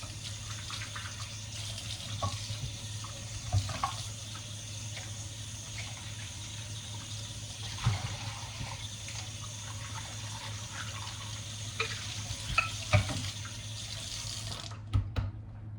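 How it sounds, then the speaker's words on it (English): Running tap water at a kitchen sink while hands are washed, a steady hiss of flowing water lasting throughout with occasional splashes and clunks, close and moderately loud, ending abruptly as the tap is shut off. "Let me wash my hands real quick."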